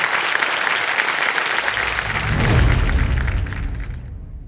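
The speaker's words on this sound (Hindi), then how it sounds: "जोरदार तालियां बज जाए इनके लिए।" Studio audience on a TV quiz show bursting into loud, sustained applause that swells and then fades out, with no talk.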